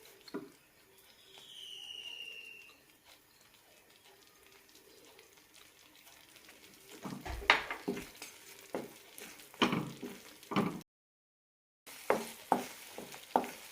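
Puttu flour mixture with coconut thickening in a pan over a high flame, stirred with a series of scraping strokes that grow louder and more frequent toward the end, with a soft bubbling hiss earlier and a brief gap of silence.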